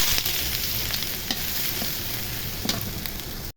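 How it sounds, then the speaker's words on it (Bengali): Onions frying in hot oil with chilies tempered in it, for a potato and pointed gourd stir-fry: a steady close crackling sizzle with a few brief stirring scrapes, cutting off at the end. "মরিচটা ভাজা হয়ে গেছে, পেঁয়াজ ভেজে নিব।"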